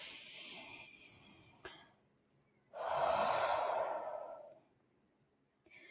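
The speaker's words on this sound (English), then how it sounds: "take a moment to enjoy a few full, deep breaths" Slow, full deep breaths taken close to the microphone: a long exhale at the start, a quiet pause, then a loud deep inhale-exhale lasting over a second, with another breath beginning at the end and no speech.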